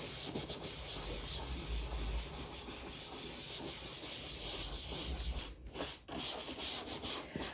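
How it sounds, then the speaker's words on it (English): A brushed leather tote bag is rubbed lightly to lift marks, giving a steady, soft scuffing texture close to the mic, continuous throughout with two brief dips near the end, no talk. "I'm not rubbing real hard on this."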